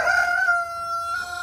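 Rooster crowing in a backyard garden, a single loud, close cock-a-doodle-doo call that holds a strained, wavering tone before trailing off.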